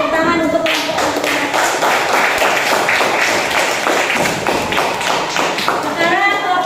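A class claps after a group presentation, producing a dense patter of applause that lasts several seconds, with voices heard at the start and end.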